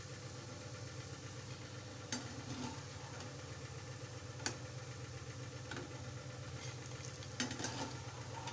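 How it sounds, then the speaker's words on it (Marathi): Shankarpali, the Diwali-special Maharashtrian dough snack, deep-frying in oil, giving a steady soft bubbling hiss throughout with a few brief clinks of a utensil, fairly quiet and with no talk. "आता या शंकरपाळ्या छान तेलात तळून घेऊया आपण।"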